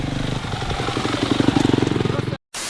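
A small rented mini motorbike engine revs with a rapid, buzzing putter on flooded ground, close by and loud, while people talk over it before it briefly cuts out.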